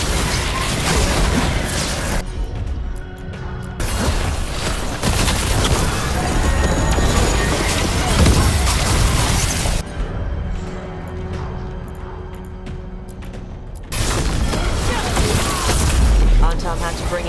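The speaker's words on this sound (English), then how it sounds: "They've got mortars!" Mortar explosions in the Dragon Age: The Veilguard video game: loud booming blasts and bursts repeat throughout over dense battle noise, with voices talking amid the combat.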